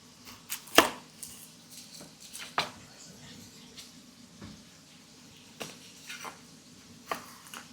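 A knife chops an onion on a board in a home kitchen, a few sparse, uneven sharp knocks spaced seconds apart over a low, quiet background.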